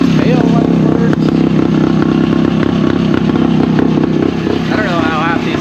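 A vintage Yamaha RT360 big bore motorcycle engine runs steadily while being warmed up during a clutch job, a loud continuous close-up drone with clattering, and a voice talks briefly over it.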